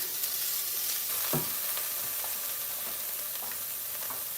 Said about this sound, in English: So just saute the carrots for a few minutes, just until it softens a little bit.